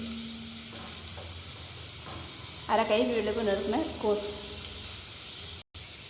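Steady soft sizzling of chopped carrot and beans sautéing in a pan for sweet corn soup runs throughout, with a brief burst of scraping and stirring while someone speaks Tamil over it.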